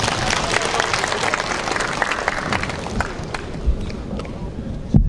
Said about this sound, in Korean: 여러분 크게 박수 한 번 더 보내주시겠습니까?